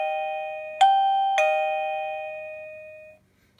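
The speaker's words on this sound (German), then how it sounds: "So, jetzt drücken wir mal die Türklingel," Esonstyle wireless doorbell chimes ring out, a fading tone followed by two more struck notes, each sustaining and slowly decaying into silence; close, clean, no voices.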